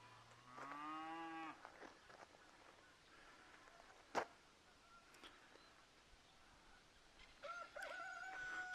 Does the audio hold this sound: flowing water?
no